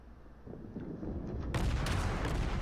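Warship main guns firing armor-piercing shells in the naval combat game World of Warships: a low rumbling roar swells, then a bright broadband blast of cannon fire lands midway and rolls on loudly to the end.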